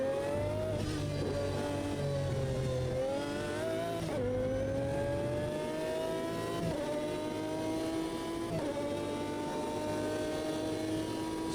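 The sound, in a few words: Lamborghini V12 engine in Automobilista 2 racing game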